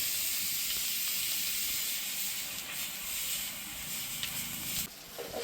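Mustard seeds hiss and sizzle in hot oil for a home-style Gujarati tempering. The steady frying hiss stays close and fairly loud, with a few faint pops and a brief clatter near the end.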